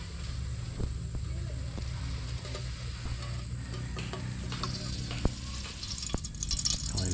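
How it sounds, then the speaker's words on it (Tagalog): Cooking oil heating in a pan before sautéing garlic and onion in a rural Capiz kitchen, giving a steady soft sizzle and crackle with faint ticking, close by and without talking. "Papainit tayo mantika."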